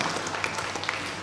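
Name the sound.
audience applause for panelist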